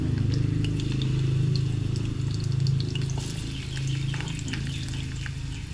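Mega sardines in tomato sauce cook in a pan with a steady, even sizzle and bubbling that runs throughout, with no talking.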